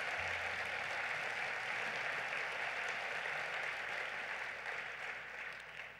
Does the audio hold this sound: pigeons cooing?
no